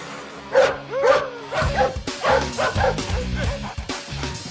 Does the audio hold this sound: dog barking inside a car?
yes